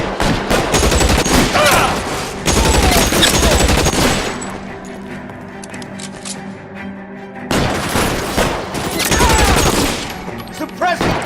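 Heavy gunfire in the video game L.A. Noire, loud bursts of rapid shots in two long volleys with a quieter stretch between, mixed with game sound.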